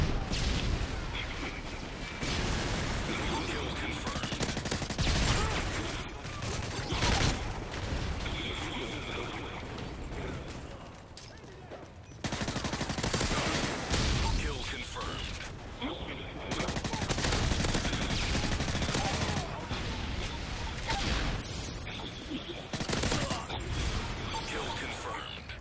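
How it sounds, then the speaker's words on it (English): Sustained gunfire in Modern Warfare 3 during a Kill Confirmed match: rapid automatic bursts and repeated shots continue throughout, fairly distant and moderate in level, with brief pauses and a voice speaking over parts. "I'm getting shot at."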